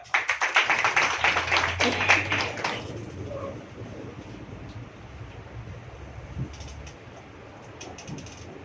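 Audience applause welcoming Lady Diana to an Ayurveda introduction talk, a dense burst of many hands clapping for about three seconds, then fading into quiet room ambience.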